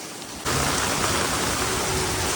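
Heavy rain pours down on a Surat market street, a dense, steady hiss that starts abruptly and stays loud and unbroken, with no voices.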